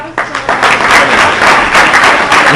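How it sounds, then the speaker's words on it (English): Applause from an audience at the close of an academic talk on global communication pedagogy, a dense steady wash of many hands clapping that starts abruptly and stays loud and close throughout. "Round of applause."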